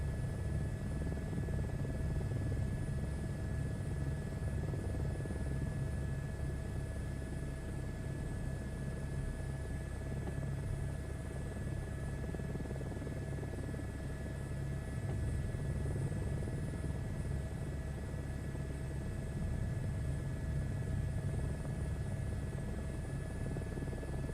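Helicopter engine in Microsoft Flight Simulator 2024, a steady droning rotor and turbine hum that stays even and loud throughout with no voices.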